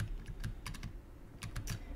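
Rapid clusters of keystrokes on a computer keyboard, typed in short bursts with brief pauses, close and fairly quiet over a low background hum.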